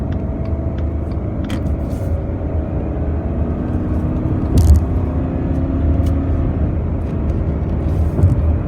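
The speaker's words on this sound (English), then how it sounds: "now we are going to merge onto the freeway. I'm going to give it a little bit of gas." A 2021 Subaru Crosstrek Sport accelerates gently at about half throttle to merge onto a freeway, giving a steady, continuous engine and road hum heard from inside the cabin, with a few faint knocks and clicks.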